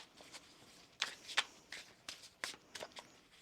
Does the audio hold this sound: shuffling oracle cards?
yes